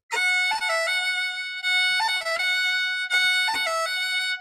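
Fiddle playing a slow roll on a high F, bright sustained bowed notes with ornamental turns repeated in phrases, clear and close with no talking.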